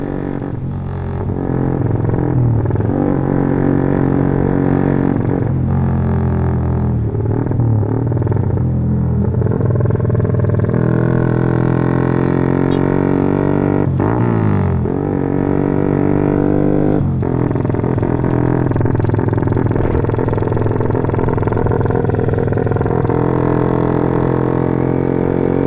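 A motorcycle fitted with a Norifumi aftermarket exhaust, tuned to sound like a CP3, revving loudly and continuously for nearly half a minute with repeated throttle swells and drops, up close in a workshop, no talk.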